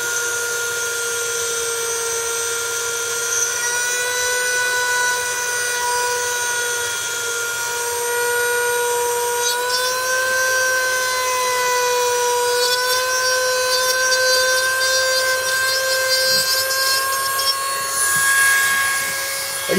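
A router bit cutting Lexan or ABS plastic in a shop gives a steady, loud high-pitched whine with sustained tonal harmonics, holding almost unchanged throughout with no talking.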